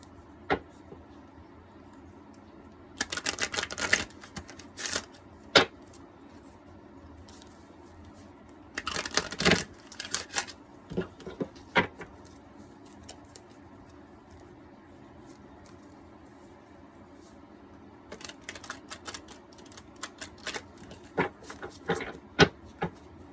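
Thick, stiff oracle cards being shuffled, heard as short bursts of riffling and slapping card stock separated by quiet stretches, fairly soft and close, with a few sharp taps between the shuffles.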